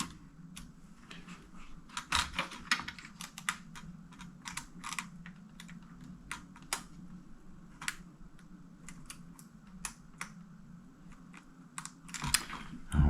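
Small plastic clicks and taps come from fiddling with a keycap on an IBM ThinkPad 600E laptop keyboard, scattered irregularly and close, with a sharper cluster near the end.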